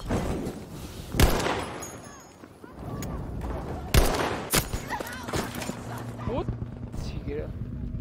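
Gunshots ring out in the video game Battlefield 5, a few sharp loud cracks with distant battlefield rumble between them, while a player talks over the action.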